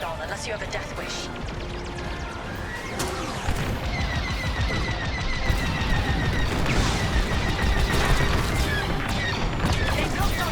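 Rapid starfighter cannon bursts and impacts crackle through Star Wars Squadrons combat, layered with engine hum and alarm-like tones, while a voice talks over the dense, continuous barrage.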